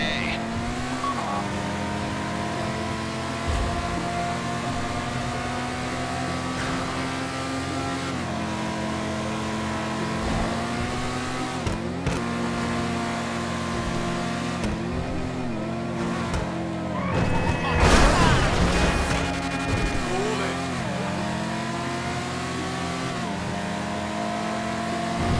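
A car drives in Grand Theft Auto V toward Sandy Shores, its engine droning steadily and rising and falling in pitch as it revs and shifts. A burst of rough noise comes near the end, and a voice is faintly heard at times.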